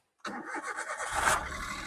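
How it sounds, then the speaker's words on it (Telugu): A Maruti Alto LXI engine cranks and catches, then settles into a rising idle rumble, close and fairly quiet, with no talking. "వెహికల్ అయితే ఇంజిన్ స్టార్ట్ చేశాను"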